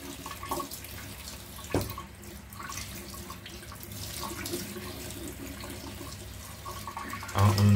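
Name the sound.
kitchen tap water running into sink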